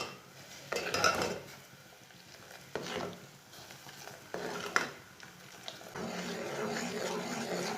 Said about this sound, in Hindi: चीनी और पत्ती डाल के इसे 2 मिनट तक पका लेंगे।